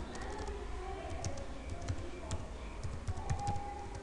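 Typing code on a computer keyboard: faint, irregular key clicks tapping through quiet room tone, with soft voice-like sounds in the background.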